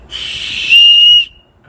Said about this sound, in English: Little weenie whistle.